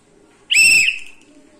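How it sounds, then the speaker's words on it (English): A single sharp whistle blast, loud and close, lasting about half a second and tailing off, with no talk, during a children's running and counting game. "Whenever I will blow the whistle, I will start."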